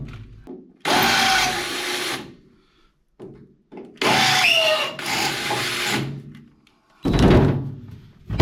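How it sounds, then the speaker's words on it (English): A power drill with a larger bit bores into material in three loud bursts separated by pauses, with clunks and handling noises in between, close by in a workshop during race car engine work. "So I need to drill those bigger"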